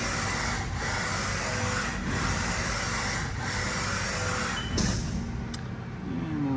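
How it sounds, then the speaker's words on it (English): A 2023 Haas ST-20 CNC turning center with live turret makes rapid axis moves, a loud steady mechanical whir with short regular pauses, then a brief clack and a rising servo whine near the end. "Just do some rapids here."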